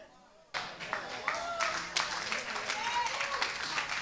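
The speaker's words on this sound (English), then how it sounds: "I thought I'd get a bigger clap on that" Church audience clapping during a sermon, a sudden burst of modest applause that carries on steadily and fairly close, with scattered cheers or voices mixed in.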